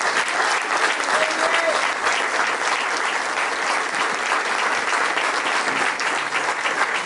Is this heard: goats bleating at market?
no